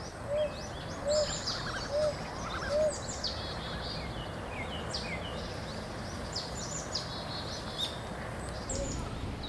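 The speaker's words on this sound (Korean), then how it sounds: "깊은 밤 글 공부하던 왕이 들었을 부엉이 소리" Brown hawk owl calls at night around an old pagoda tree at Changdeokgung Palace: a few soft, evenly spaced hoots early on, faint and distant beneath a steady wash of insects and other birds.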